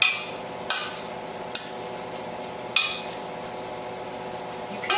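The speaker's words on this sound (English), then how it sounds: "I'm just going to take a potato masher and mash them up" A potato masher pounding cooked tomatoes in a pot for a Mexican dish, giving four sharp, separate knocks against the pan with quiet sizzling between them and no talking.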